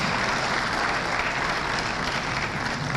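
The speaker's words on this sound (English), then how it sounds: "Please, can we give her a bigger applause" Steady, dense clapping from a crowd at a South East venture capital programme gathering in Enugu, a continuous round of applause holding at an even loudness with no voices.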